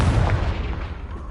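Confringo blasting spell explosion in the Hogwarts Legacy video game: a loud, continuous booming burst with deep low rumble and crackling noise, lasting just over a second without a clear fade.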